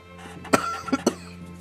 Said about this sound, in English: There's my COVID cough back again.